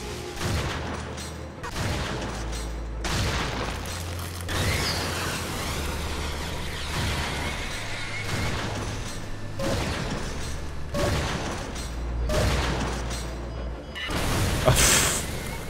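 Enemy beam weapons charging and firing in the first-person shooter Wrack, with a dense run of loud blasts, booms and mechanical whirring, some bursts sharply separated, continuous across the stretch without talk.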